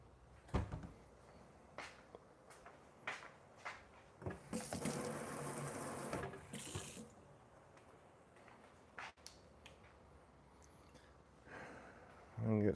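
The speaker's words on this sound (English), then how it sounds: "And get some water in there." Water runs briefly from a tap into a cooking pot in a home kitchen, a short rushing burst amid quiet handling noises and breathing.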